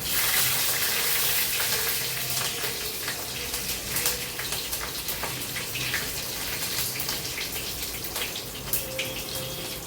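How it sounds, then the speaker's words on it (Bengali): Onion and green chilli sizzle steadily in hot oil in a pan with panch phoron, a continuous bright crackling hiss with scattered pops, close and fairly loud with no talking. "পেঁয়াজটা আমার লাল লাল করে ভাজি হয়ে গেছে।"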